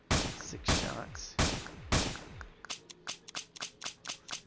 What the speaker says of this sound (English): When it shoots, it makes a sound